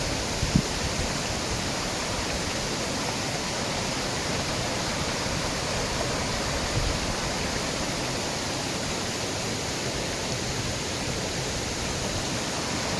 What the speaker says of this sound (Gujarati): આ વહેતી ખળખળ વહેતી નદી જુઓ।